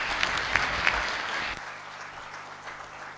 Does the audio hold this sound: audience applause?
yes